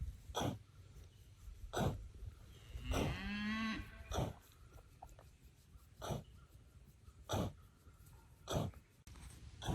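A plump, pregnant cow lets out one long, wavering moo close by, surrounded by a regular series of heavy, puffing breaths every second or so.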